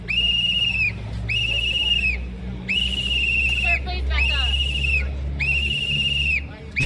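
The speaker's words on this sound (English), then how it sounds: "just whistling and whistling" A protester at a Matt Gaetz and Marjorie Taylor Greene outdoor press conference blows a shrill whistle in loud repeated blasts, about six in a row, close by over a low crowd murmur.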